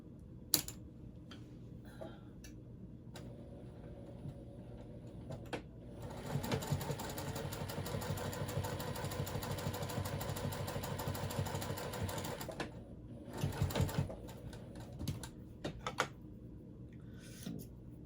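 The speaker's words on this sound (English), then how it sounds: "And now I'm going to sew it." A sewing machine stitches a purple water bottle bag, starting with a few short ticking taps, then running in a steady close whirring burst for several seconds, followed by shorter bursts and clicks.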